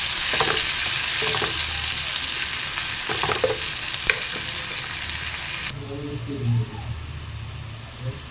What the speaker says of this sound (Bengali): দিয়ে টমেটোর পেস্টটা দিয়ে দিচ্ছি। ওটাকেও ভালো করে ভেজে নেব।